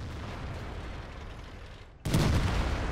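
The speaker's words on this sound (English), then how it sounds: "That was a wasted shot right there." Tank cannon in World of Tanks, with a sustained rumbling blast already underway that briefly fades, then a sudden sharp, loud shot firing close and booming through the rest of the moment.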